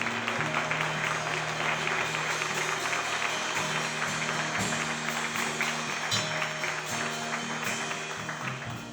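A church congregation applauds in a steady, sustained wash of clapping that carries through the whole stretch, with organ or keyboard tones held underneath and no talk over it.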